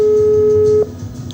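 Busy signal on a failed phone video call: a single steady electronic tone that holds for under a second, then stops, leaving low room noise.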